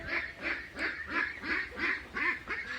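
A young male duckling, black in colour and a few months old, gives a steady run of about eight raspy, nasal quacks at an even, rhythmic pace. The calls are close and moderately loud.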